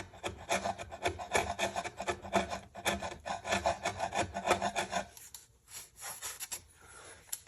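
Polyurethane finish gets scraped and rubbed off an Epiphone guitar body, giving rapid rhythmic rasping strokes, close and steady, that slow to a few lighter scrapes near the end.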